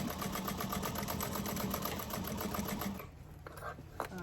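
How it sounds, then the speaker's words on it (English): A sewing machine runs steadily, stitching over basted webbing on a tote bag, its rapid needle rhythm close and continuous before easing off and stopping near the end with a few small clicks. "I like to make sure that it stays straight as I sew over it"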